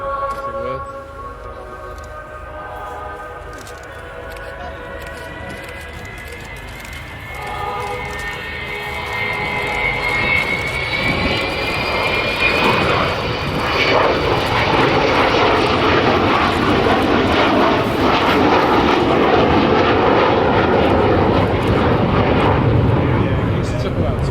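Avro Vulcan XH558 delta-wing bomber flying at the Royal International Air Tattoo 2009 air display, its jet engines roaring loud and steady, swelling louder midway as it passes, with crowd chatter beneath.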